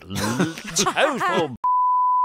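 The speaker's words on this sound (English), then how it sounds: "I hope there's a beep available" Someone talks on radio, then a long, loud, steady censor beep follows, a single sustained tone that ends the clip.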